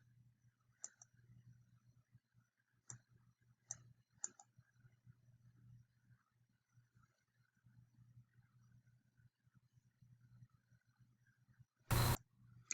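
Sparse, faint computer mouse clicks, single and doubled, tick over a low steady hum, with a louder burst of noise near the end.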